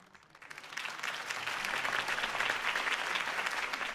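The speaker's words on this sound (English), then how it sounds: "If only Mr. Wayne, my campaign's largest backer, could have heard that applause" A crowd applauding after a political campaign speech in the video game Batman: The Telltale Series, the clapping starting softly and swelling into sustained dense applause from many hands.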